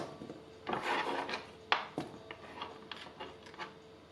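A knife cuts potatoes into cubes on a board, a handful of close, dry scraping and chopping strokes with short sharp knocks, fairly quiet and irregular with no voices.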